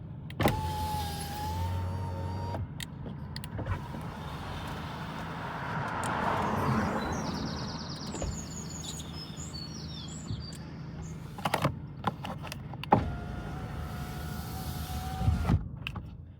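Audi A4 electric windows run up and down off a newly fitted window switch, with several motor whirs lasting a couple of seconds each and soft clicks between them, heard alone and fairly quiet.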